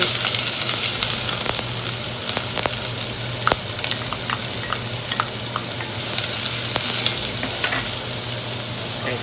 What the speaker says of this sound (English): you want to sweat your onions